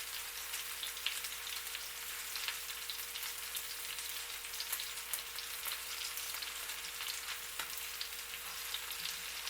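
Onions frying in a pan for a sirloin steak dinner give off a steady, dense sizzle with faint crackles throughout, close by and without any talk.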